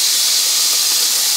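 Skinless, boneless sardines packed in water sizzle in a hot pan, giving a loud, steady hiss close by with no voices.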